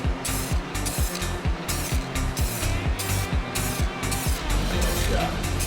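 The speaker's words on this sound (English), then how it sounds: "I'm gonna spray it with color." Paint sprays in rhythmic bursts onto a car being refinished in colour, close and loud, with repeated hissing passes and a steady mechanical pulse beneath, no talking.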